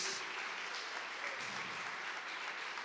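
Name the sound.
church congregation clapping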